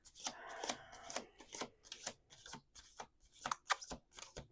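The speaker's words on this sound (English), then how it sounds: "This is the last shuffle" Oracle cards being shuffled at a table, a quick run of crisp riffling and slapping bursts repeating in uneven rhythm, close and fairly quiet.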